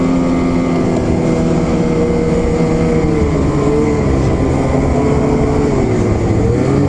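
A 2021 Ski-doo XRS snowmobile with an 850 etec engine drives at speed, a loud steady engine drone with slowly wavering pitch mixed with heavy wind rush and no talking.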